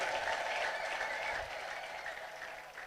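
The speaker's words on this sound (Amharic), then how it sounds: "በደንብ ያጨብጭብ እስቲ።" A church congregation claps in a dense, continuous wash of applause that stays fairly even and slowly eases off slightly over a few seconds, heard without speech.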